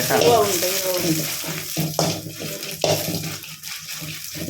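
Food fries noisily in hot oil in a pan for a Mangalorean bondas sukka, a close continuous sizzle with a few sharp clicks and scrapes and faint speech underneath.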